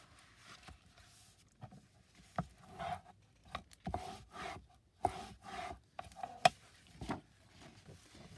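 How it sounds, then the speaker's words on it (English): Paper hinges of a handmade journal being burnished: quiet, close, rhythmic rubbing strokes that come in short bursts with brief pauses between them. "And now we can burnish those hinges."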